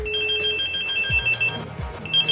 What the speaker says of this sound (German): Diese Klingelton.